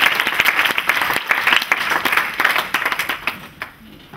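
A church congregation in Caen applauds, with loud, dense clapping that rings out close by and then thins and fades toward the end.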